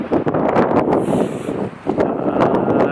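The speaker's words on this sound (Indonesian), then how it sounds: "ini alhamdulillah badai cuman angin aja, nggak ditambah hujan" Storm wind on Mount Rinjani blasts across the microphone in loud, steady gusts, rain-free, briefly dipping before surging again.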